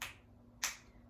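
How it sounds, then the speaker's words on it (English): A single crisp finger snap rings out in a quiet room, sharp and close, keeping time with a yoga chant. "you can snap"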